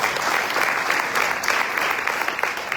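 An audience at a Hindu mandir gathering in South Africa gives the temple members a continuous, even round of applause from start to finish.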